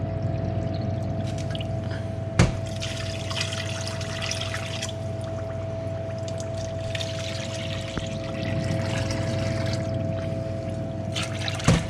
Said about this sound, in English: So we'll pour in a half a gallon of water.